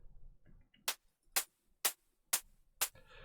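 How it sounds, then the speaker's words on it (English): Open hi-hats from an Ableton melodic house track strike five times at an even, steady pace, each a bright, hissy burst that quickly fades, heard alone and clear. "So the open hi-hats sound like this."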